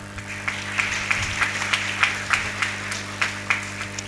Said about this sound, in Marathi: म्हणून आपण यांच्याकरता मुद्दाम टाळ्या वाजायचं.